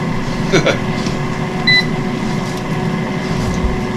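Power Vortex Air Fryer Pro XL running on its eggs setting, a steady fan whir and hum with a brief high button beep partway through and a few faint knocks nearby.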